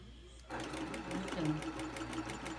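A sewing machine starts up after a brief quiet moment and runs with a fast, steady mechanical whir and rapid needle ticking while trying to stitch wide back fabric, close by, with a voice faintly underneath.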